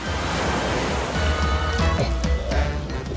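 Ocean waves surging and crashing in a loud, continuous rush with wind noise buffeting the microphone.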